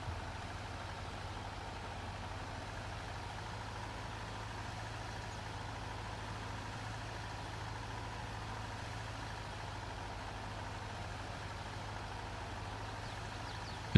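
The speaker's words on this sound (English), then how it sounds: "let's take our mower back to the shed" A ride-on lawn mower engine in a farming video game runs at a steady, low, droning idle, continuous and unchanging throughout with no voices.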